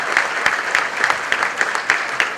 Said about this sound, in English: give all of yourselves a fantastic round of applause